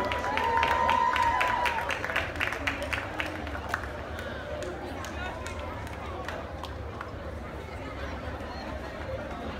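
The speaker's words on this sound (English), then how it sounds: "Let's have one more round of applause for our homecoming court." A stadium crowd at a high school homecoming football game applauds the homecoming king. The clapping is dense and distant, loudest at first, then thins into a steady patter with a faint crowd murmur.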